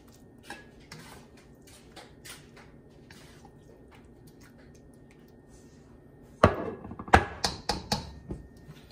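Cakes are dished out into a pan: after quiet light clinks, a run of sharp metallic scrapes and knocks of a utensil against cookware comes close and fairly loud near the end.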